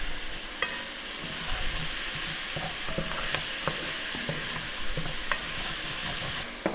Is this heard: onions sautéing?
yes